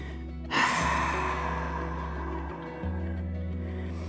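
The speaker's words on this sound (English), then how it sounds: "let yourself have 3 deep breaths here" Slow, deep breaths drawn while resting in child's pose during a beginner Pilates workout, a gasping inhale then a long sighing exhale, close and soft over a steady low hum, with no talking.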